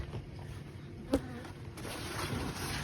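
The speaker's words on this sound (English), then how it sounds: "These bees are busy." Honey bees swarming around hive boxes in a bloom-season field during a rainy honey pull: a faint, continuous buzzing haze with one sharp knock midway, the hum thickening slightly toward the end.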